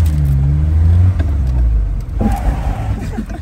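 A car engine idling and rumbling while the vehicle is parked, a close, loud low drone that shifts pitch slightly as the engine eases off and picks up again, with no voices.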